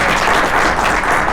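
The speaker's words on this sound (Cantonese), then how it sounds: "俾掌聲啊" A seminar audience gives a short burst of steady, even applause, a crowd of hands clapping together at full loudness.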